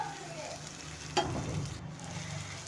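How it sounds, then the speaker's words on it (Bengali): Ginger garlic paste fries in hot oil for a fish curry, a soft steady sizzle with one brief loud hiss as it lands in the pan, close by. "এখানে আদা রসুনের পেস্টটা আমি দিয়ে দিলাম"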